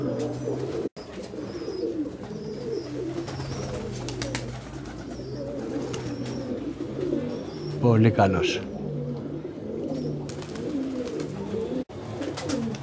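Racing pigeons cooing in their loft, a steady chorus of low coos running throughout with a brief flutter of wings, while someone speaks over the birds.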